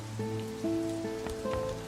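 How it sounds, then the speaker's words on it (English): Rain in the video game The Dark Eye: Chains of Satinav falls as a soft, steady patter beneath sustained musical tones, with a few louder drops standing out. "Thanks for the rain, Efford"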